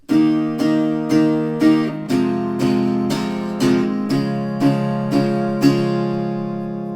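Steady strummed acoustic guitar chords, a dozen or so even strokes with one chord change, the final strum left ringing and slowly fading.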